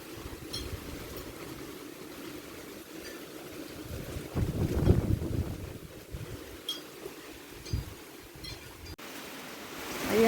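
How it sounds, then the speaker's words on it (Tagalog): Strong wind during Typhoon Kristine, a continuous rushing roar with gusts that swell and buffet the microphone, loudest in the middle and at the close. "At ang lakas ng hangin."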